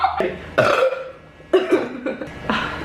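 Several loud, deep burps from a woman, roughly three separate belches spaced about a second apart, each rumbling and drawn out with no talking in between.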